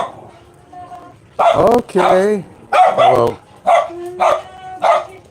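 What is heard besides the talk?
neighbors' young poodles barking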